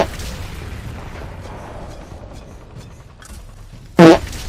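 A single short, loud, blaring fart sound effect bursts out near the end over quiet game background noise, played after a missed shot in a shooter video game.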